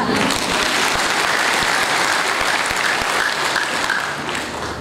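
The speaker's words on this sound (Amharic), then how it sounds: "አጨብጭቡላት" Steady, dense applause from a church congregation fills the space, loud and continuous throughout with no pause.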